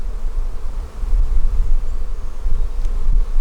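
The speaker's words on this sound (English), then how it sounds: "we're going to go ahead and irritate the bees" Honey bees swarm around an opened hive in Georgia, making a close, loud, low droning buzz that swells and wavers with passing insects, with no speech.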